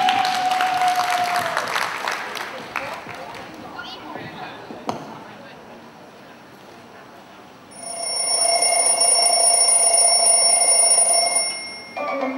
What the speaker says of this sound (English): everyone, clap your hands for them